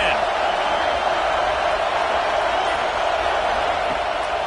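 A video game American football match's stadium crowd roars in a steady, loud wash of cheering that holds evenly throughout with no break.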